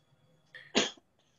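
A single sharp sneeze bursts out partway through a quiet Sunday Bible class, short and fairly close, with near silence before and after.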